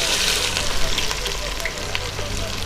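Sliced onions for mutton biryani frying in hot oil, a steady close sizzle with light stirring scrapes throughout.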